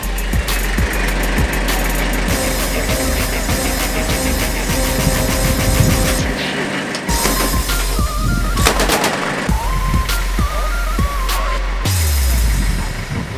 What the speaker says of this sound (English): APC has a 50 caliber Dushka machine gun